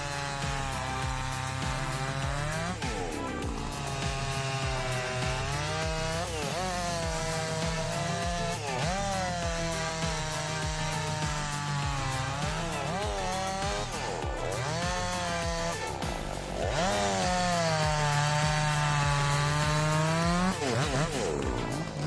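A large, powerful chainsaw cutting through big logs, its engine revving and bogging continuously with shifting pitch, loud and close for the whole stretch with no talking.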